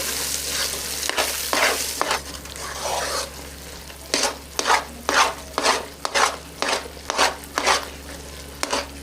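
A spoon stirs Mumbai Karachi halwa in a hot pan, first with a sizzling scrape, then in a run of regular rhythmic strokes scraping and slapping the thick mixture, close and clear with no talk.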